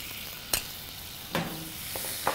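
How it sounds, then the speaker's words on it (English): Calamari frying in butter in a pan: a steady, soft sizzle runs throughout, broken by a few sharp clicks and taps of a utensil against the pan. "Now I'm going to take a little bit more butter, add it into the pan, because I want a light lemon butter sauce for my calamari."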